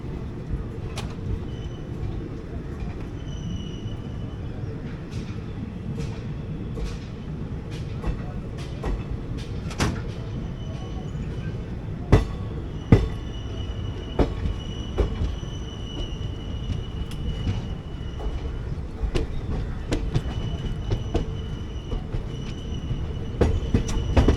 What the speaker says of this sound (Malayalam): ട്രെയിൻ നല്ലോണം സ്ലോ ആവുന്നുണ്ട്